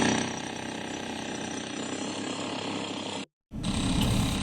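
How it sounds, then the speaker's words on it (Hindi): A demolition hammer pounds an illegal madrasa building constructed on a pond, making a loud, dense, continuous mechanical rattle. It stops abruptly for a moment, then resumes. "अवैध मदरसे को हैमर हथौड़े से तोड़ा गया।"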